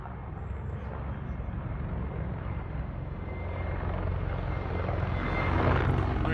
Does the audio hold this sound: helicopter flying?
yes